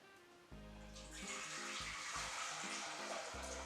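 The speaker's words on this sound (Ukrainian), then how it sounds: "Каструлю наливаю півтори літри води." Hot water pours steadily into a metal saucepan, a close hissing gush whose tone rises as the vessel fills.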